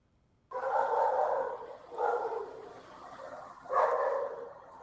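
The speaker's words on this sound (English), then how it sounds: "Angry dog." Three gruff, drawn-out growling barks from an angry dog in Minecraft, loud and close, each a thick burst separated by brief pauses with no talking.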